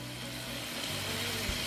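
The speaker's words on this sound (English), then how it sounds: "Can you hear them sizzling?" Bison burger patties frying in a pan give off a soft, continuous sizzle, fairly quiet and close, with a small pop near the end.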